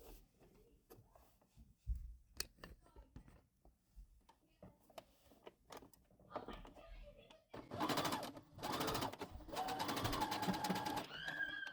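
A home sewing machine running a straight stitch on a fabric magnetic bookmark, its motor whirring in a sustained loud burst near the end after scattered quieter clicks and handling noises, with a voice talking early on.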